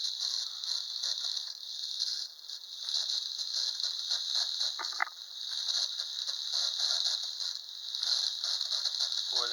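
A wind-up toy motor that badly needs oil runs on a flat surface, giving a continuous high, squeaky mechanical whir with faint ratcheting ticks and one brief squeal near the middle, fairly quiet.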